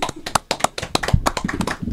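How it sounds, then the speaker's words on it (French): A studio audience on a French talk show claps in quick, uneven bursts to welcome a guest, loud and close. "On peut l'applaudir très fort."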